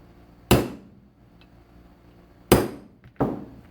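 Three sharp metallic strikes stake a part on an AR-10 rifle in 6.5 Creedmoor: one hit, a pause of two seconds, then two quick blows close together, each ringing briefly and decaying, loud and close in a quiet room.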